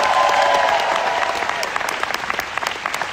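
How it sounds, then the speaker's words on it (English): Gala audience applauding charity partners, a dense wash of clapping from a large indoor crowd that starts full and thins into scattered individual claps toward the end. "A great round of applause to our charity partners."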